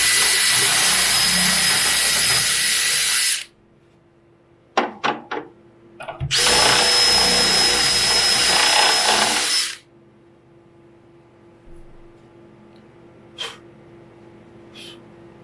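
Power drill fitted with a 6 mm bit boring into a wooden drawer, two loud sustained whirring bursts of about three seconds each separated by a few sharp clicks, then quiet with faint knocks.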